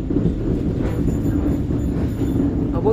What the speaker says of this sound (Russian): Просто мечта на трамвайчике прокатиться, класс.